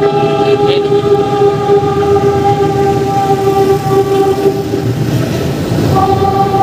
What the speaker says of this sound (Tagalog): Dahil papadaan yung tren, naka-stop sila dyan.